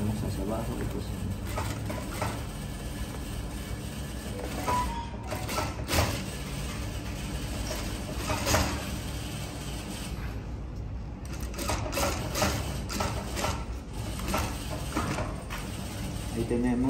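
A sewing machine stitches a cup onto an unlined bustier, running in a steady close whir with small pauses, under a voice speaking Spanish.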